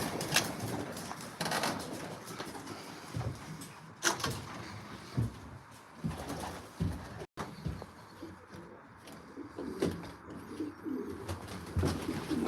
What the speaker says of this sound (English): I want to call this pigeon in.